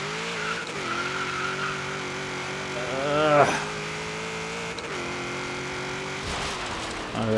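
A 1978 Ford Mustang II King Cobra in Forza Horizon 3 spins out with a sustained engine drone and rising tire squeal, which peaks sharply midway and then keeps howling close and loud.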